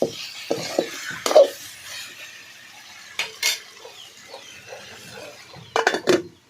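Spaced metal scrapes and clinks of a spoon stirring brinjal with salt in a pan, a few sharp knocks over a faint quiet sizzle, no voices.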